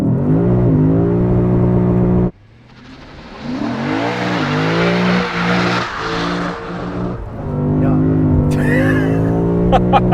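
A 2021 Lexus RC F Track Edition idles loudly, cuts out abruptly, then surges forward under launch control with a rising engine roar and shifts, ending with steady engine noise and a brief high chime.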